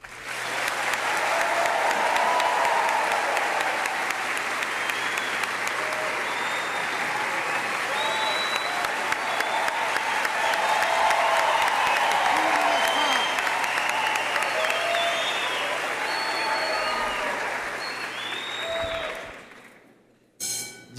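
Sustained applause from a large crowd in a session of Brazil's National Congress, loud and continuous for about twenty seconds before tapering off abruptly.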